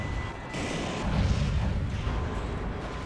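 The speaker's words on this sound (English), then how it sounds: "there is something that keeps on shooting me, and I'm pretty sure it's the snipers" Sniper gunfire in the video game Metal Wolf Chaos XD, heard as a continuous rumbling barrage of booming shots at moderate loudness with no pauses.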